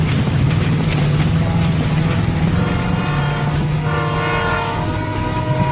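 A train passes nearby with a steady loud rumble throughout, and a sustained horn tone rises over it toward the end.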